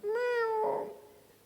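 A man vocally imitates a cat's meow: a single drawn-out, nasal rising note that turns breathy at the end and quickly dies away.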